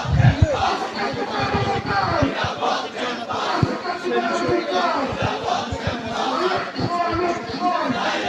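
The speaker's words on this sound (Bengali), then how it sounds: "তারা কিন্তু একটি বিক্ষোভ মিছিল করছেন" A large crowd of student protesters chants loudly and rhythmically during a protest march on the Dhaka University campus in Bangladesh, the massed voices continuous and close throughout.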